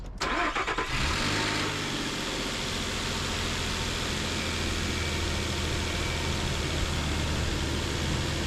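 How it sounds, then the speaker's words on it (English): A car engine cranks briefly and catches, then settles into a steady, loud idle, with an automotive A/C recharge can and hose connected under the hood. "Now we start the car."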